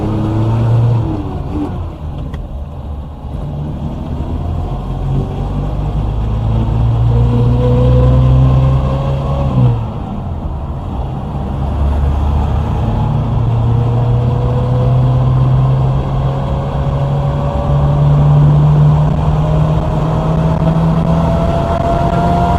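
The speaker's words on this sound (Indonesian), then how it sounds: "kita coba ingin mendengarkan bersama untuk suara mesin pada RPM 3000 sampai dengan 4500 dalam kondisi gigi 3 ke gigi 4" Suzuki Jimny Katana engine climbing from 3000 to 4500 RPM, running steady and loud with rising tones as it is shifted from third gear to fourth, with no voices.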